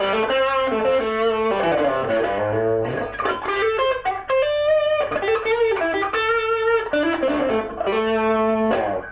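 An electric guitar through a warm overdrive pedal (Nxgeneration Warm Drive) plays a melodic run of notes and chords, loud and close, with a warm, mildly overdriven tone and no talking.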